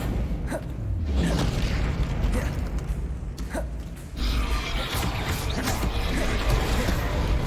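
Spellcasting in Hogwarts Legacy, a dense, loud game soundscape of whooshing magical bursts, creaks and mechanical clatter with a heavy low rumble, punctuated by sharp impacts around the middle and a renewed surge after four seconds.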